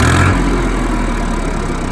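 A giant tiller tractor engine running at low throttle, a steady loud low rumbling drone, close and continuous with no voices.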